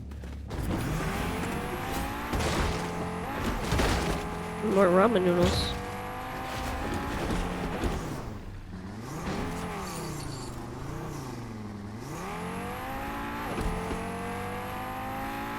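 A car engine hums and revs with rising and falling pitch in the video game Fortnite, tires squealing briefly, while a person talks over the driving.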